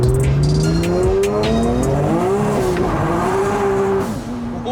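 Widebody Acura NSX with a racing clutch spinning its tires hard, a loud sustained engine drone with rising and falling pitch under continuous tire squeal and skidding, close and steady for several seconds.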